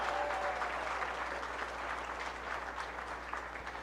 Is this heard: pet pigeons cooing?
no